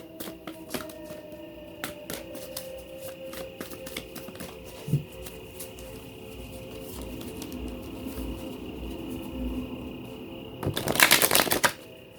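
Tarot cards are shuffled over and over in a quiet room, their crisp riffles and soft flicks coming close and steady, and a louder burst of shuffling arrives near the end.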